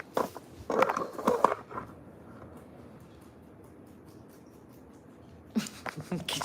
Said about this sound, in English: Can you guys hear the crunching?